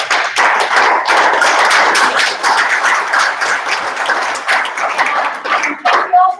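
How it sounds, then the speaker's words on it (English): Audience applause for panelists at the close of a mobile web versus mobile apps discussion, dense steady clapping from a crowd lasting several seconds, thinning near the end. "big applause to our panelists."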